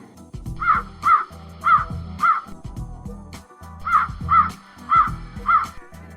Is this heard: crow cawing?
yes